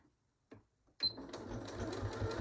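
Sewing machine running a short burst of back stitches on a small fabric pin cushion, starting after a couple of faint clicks and whirring steadily at close range with no talk.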